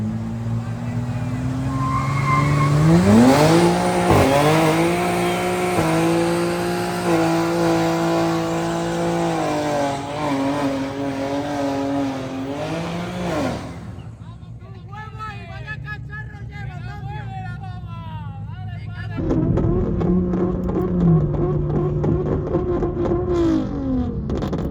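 Drift cars at a street car meet rev hard and rise in pitch, followed by tire squeal and skidding, loud and close, with people talking in places.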